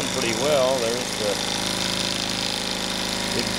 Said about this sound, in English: That's a pretty cool little steam engine.